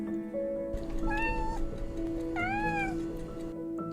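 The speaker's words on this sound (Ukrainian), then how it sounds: "Це кошеня." Two rising, drawn-out kitten meows, thin and high, over a steady background hum with no talking.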